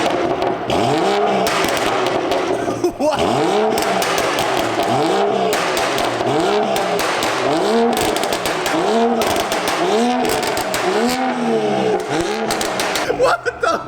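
A BMW F30 335i with an N55 engine revs repeatedly in rhythmic bursts, with crackling pops from the exhaust over a loud, constant drone, and voices are heard.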